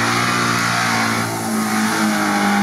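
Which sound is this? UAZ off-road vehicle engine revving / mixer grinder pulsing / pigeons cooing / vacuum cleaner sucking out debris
UAZ off-road vehicle engine revving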